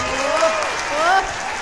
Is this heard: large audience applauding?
yes